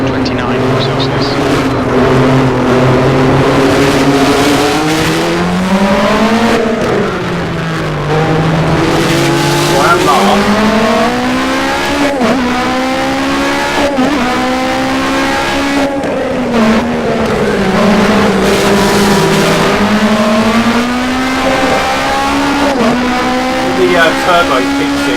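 An rFactor 2 race car's engine drones and revs through shifts, rising and falling in pitch as it accelerates and brakes, loud and close, with tire noise and someone talking over it throughout.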